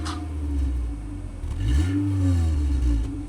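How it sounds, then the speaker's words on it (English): A 1995 Volkswagen Polo Harlekin engine idles with a deep exhaust rumble, then revs up sharply once and holds a louder, rising roar, close by. "Here's the exhaust note."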